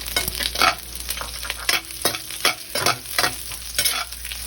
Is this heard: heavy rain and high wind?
no